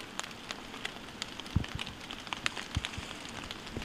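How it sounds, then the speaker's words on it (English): Rain falling in the woods on Thanksgiving Day with snow melting, heard as a soft, steady patter with scattered closer drips and taps, fairly faint and without speech. "This stinking rain, all the snow melted on us."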